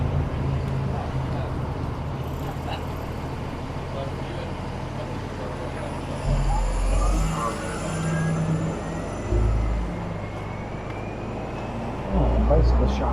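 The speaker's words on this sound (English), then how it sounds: "These buses are having races. See who can make more noise" City buses rumble along a street in Toronto's Bloor West Village, low heavy engine drone with passing surges that swell louder at intervals, heard from the sidewalk amid general traffic noise.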